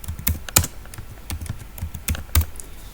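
Fingers type a name on a computer keyboard, a series of clear, close key clicks at an uneven pace with a few louder strikes, alone without talking.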